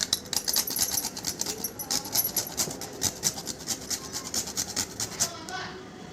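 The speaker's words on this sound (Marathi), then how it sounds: "थोडं जायफळ किसून घेते." Whole nutmeg is grated by hand over a sweet pulse filling for kesari puran poli, giving quick, soft, rhythmic scraping strokes that repeat steadily and close up.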